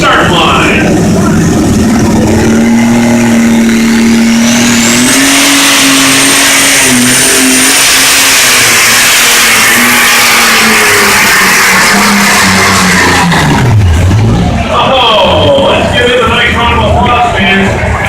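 An alcohol-engine pulling tractor at a fair tractor pull roars loudly on the start line, its engine whining up steadily in pitch, holding a sustained high scream, then dipping and surging again near the end.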